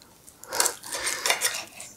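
A knife slices through the middle of a steak au poivre made from contrefilet, giving a few soft close scraping strokes against the plate, with quiet pauses in between.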